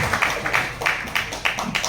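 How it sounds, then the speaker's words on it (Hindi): An audience welcomes speaker Rahul Kamle with applause, rhythmic clapping in pulsing waves at a steady beat, fairly loud and close, with no talk over it. "जोरदार तालियों के बीच राहुल कामले"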